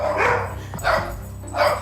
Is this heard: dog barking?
yes